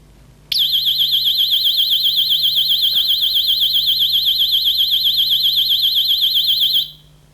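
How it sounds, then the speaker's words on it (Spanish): A small electronic alarm, triggered when a mercury tilt switch closes, starts abruptly and holds a loud warbling high-pitched tone for about six seconds, then stops sharply. "como ven, al cerrar el contacto se dispara la alarma"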